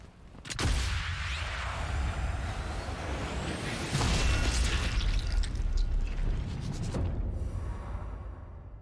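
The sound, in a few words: gunshot in video game Sniper Elite 5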